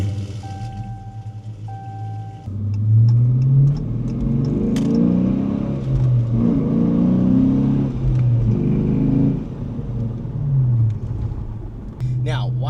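A 2015 Dodge Challenger rumbles from the cabin as it drives off and accelerates, its low engine tone swelling in repeated surges; a voice talks briefly at the start.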